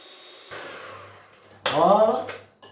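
An electric mixer whirs steadily while beating egg whites for a semolina cake, starting up after a moment, with a voice briefly heard over the buzzing motor.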